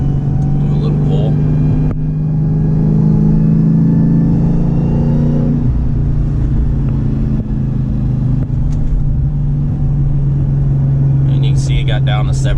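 A car engine revs up through an acceleration pull, a loud close drone that climbs in pitch, then eases and settles into a steady cruising rumble.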